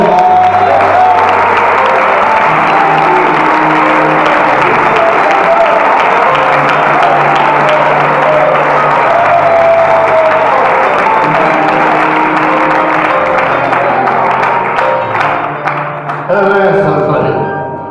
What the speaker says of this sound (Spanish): aplauso a este Rey